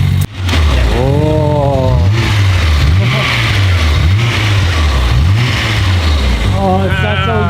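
A Nissan Skyline R34 GTR on break-in revs up and down several times in rising and falling sweeps, loud and close, with a brief exclamation at the start.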